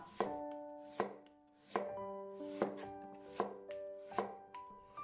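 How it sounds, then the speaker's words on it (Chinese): A knife cuts a peeled potato into thin slices on a cutting board, about six crisp, evenly spaced chops, each with a short ringing tail. The chops are close and clear, with no talking. "去皮之后，再给它切成薄片，尽量切的薄一点，更容易熟"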